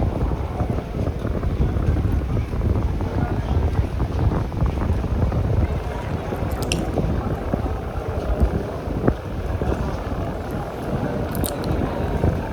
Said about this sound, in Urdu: ہوا بہت ہی زیادہ تیز اور ٹھنڈی چل رہی ہے۔